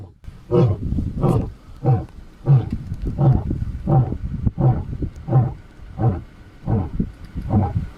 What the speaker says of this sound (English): The deep woods echo with a bone-chilling roar as a massive lion stalks alongside a moving vehicle.